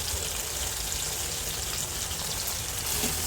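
Prawns fry in oil with chopped onion, green chili and garlic, a steady, close, even hiss of sizzling throughout.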